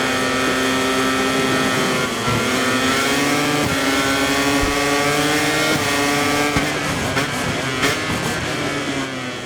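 Racing motorcycle engine in the video game MotoGP 24, a Ducati-style race bike at full throttle with continuous high-pitched revving, rising and falling through gear shifts and hard braking, loud and steady throughout.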